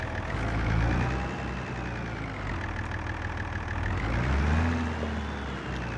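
A Fiat tractor in Farming Simulator 25 runs with a steady, low mid-pitched engine drone, holding an even idle-like tone with slight swells, continuous and without talking.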